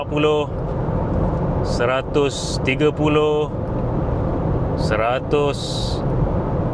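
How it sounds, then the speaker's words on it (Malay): Cabin noise inside a Honda CR-V cruising at 140 km/h: a steady, continuous road and wind rumble fills the interior, with someone talking over it in several short stretches. "jom kita dengarkan dia punya NVH pada kelajuan yang tinggi ini 140"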